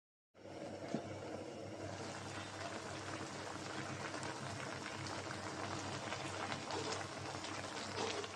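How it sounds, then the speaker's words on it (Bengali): Stalk greens and potato simmer in a covered pot, a soft steady bubbling and hissing that begins abruptly and continues evenly at low volume. "তো শাকটা বলক এসেছে"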